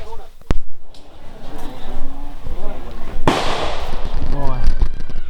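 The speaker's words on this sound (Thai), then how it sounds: "จะได้ยินเสียงปืนนะครับเขาจะมีสนามให้เรายิงปืน" A sharp gunshot cracks once early on at a shooting range near the Cu Chi tunnels, Ho Chi Minh City, then another loud blast follows, with outdoor noise and people talking in between.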